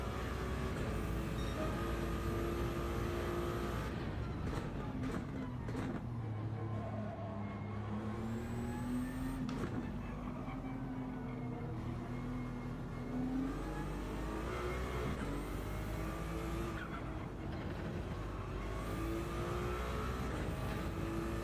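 A Ferrari race car engine in a racing video game revs and drones continuously, pitch climbing and dropping through gear changes in repeated waves, loud and steady with no talking.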